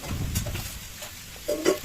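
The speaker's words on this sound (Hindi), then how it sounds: "मैं बस वही सब्जी से छौंक रही हूँ" Vegetables being tempered (chhaunk) in a hot pan at home, giving a low sizzling rustle with stirring scrapes, then a brief louder hiss near the end.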